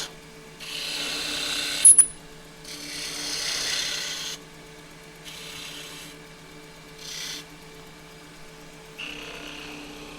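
A wood lathe turns a bead from scrap wood, the tool giving several rasping, scraping bursts of cutting over a steady low motor hum, close and alone without talk.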